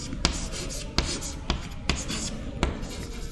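Chalk tapping and scraping on a board in a physics lecture hall, several sharp strokes spaced irregularly over a steady low room hum, fairly close, with no talk.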